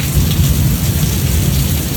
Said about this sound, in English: a line of strong thunderstorms with torrential rain continues to sweep across parts of the South